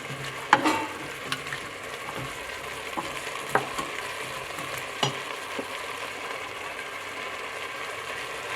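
Ratatouille vegetables sizzle and fry in a pan, a steady soft crackle under occasional scraping knocks of a utensil stirring them.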